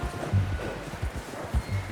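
A horse in Red Dead Redemption 2 walks with steady, close clip-clop hoofbeats, roughly four soft thuds spaced through a short stretch with no voices.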